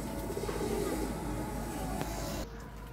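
Low, continuous cooing from a loft of flying pigeons murmurs steadily in the background, fading slightly near the end.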